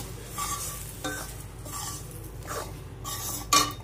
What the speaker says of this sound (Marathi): हे पीठ चांगलं भाजून घ्यायचं